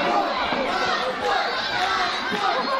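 A wrestling crowd at a live pro wrestling show fills the hall with steady cheering and chatter, a dense, loud roar with no clear breaks.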